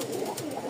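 Pigeons coo softly in a short, steady burst of low, rounded calls close by, with no talking.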